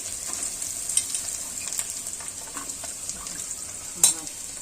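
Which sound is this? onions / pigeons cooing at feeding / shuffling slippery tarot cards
onions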